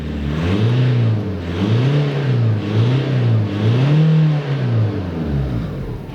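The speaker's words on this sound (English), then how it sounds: "I hate revving it out. Doesn't sound great, does it, a diesel?" A Seat Ibiza TDI diesel engine, the car up on ramps, revs repeatedly in rising and falling surges, loud and close, with no talking over it.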